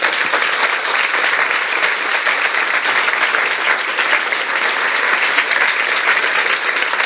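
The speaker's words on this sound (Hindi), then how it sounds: "आइए प्रभु के लिए एक अच्छी ताली बजाएंगे।" Sustained applause from a church congregation at a Hindi-language Christian preaching service, dense steady clapping at full volume, held for the whole stretch without letting up.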